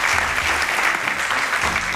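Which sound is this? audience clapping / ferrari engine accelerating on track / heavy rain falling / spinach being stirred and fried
audience clapping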